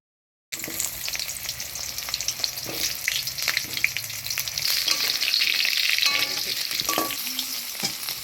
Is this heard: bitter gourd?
yes